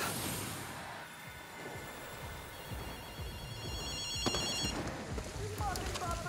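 A payphone rings in the game Ghostwire: Tokyo, its repeated electronic bell trilling in bursts over a low murmuring ambience, with a louder clack partway through.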